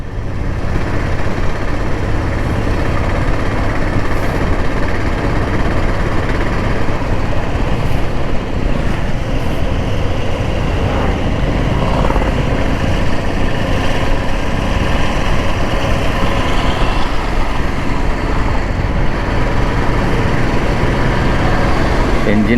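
A high-mileage Royal Enfield J Series Classic motorcycle engine idles at close range, a steady, unbroken low thump that runs the whole time at constant loudness with no voices over it.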